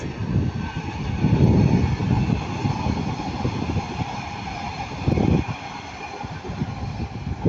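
A passenger train rumbles past at Ardwick, a steady mid-distance roar of wheels and engine that swells and eases over several seconds, heard alone.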